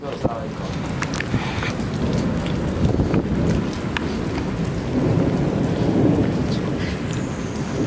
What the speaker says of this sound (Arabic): هذه امطار جده